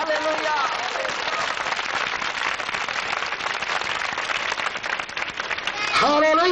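A church congregation claps loudly in sustained, dense applause during a worship service, with a voice heard briefly at the start and again at the end.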